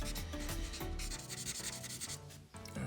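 A marker's chisel tip coloring in a drawing, close scratchy rubbing strokes repeating in short back-and-forth passes, with no talking.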